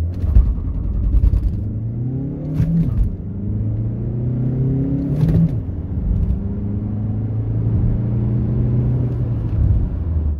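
A 2016 Ford Mondeo 2.0 TDCI diesel with high mileage accelerates hard from a standstill to 100 km/h, its engine rising in pitch through several gears, each shift marked by a brief dip before the drone climbs again.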